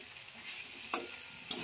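Potato curry with tomato sautéing in a pan, the white potato dish made without turmeric: a soft, steady sizzle with two quick scraping stirs of a spoon against the pan, close by.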